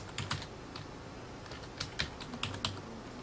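A folder name is typed on a computer keyboard, with soft, close, irregular key clicks in small clusters over quiet room tone.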